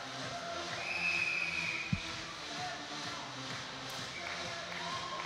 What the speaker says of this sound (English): that looks like that might be the full-time whistle